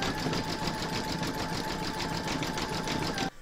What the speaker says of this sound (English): pop that into your machine and stitch round number 7, and that's going to zigzag along the join here